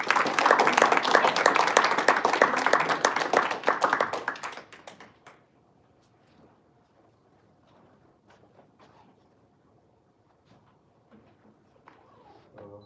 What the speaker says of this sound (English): put your hands together and give a round of applause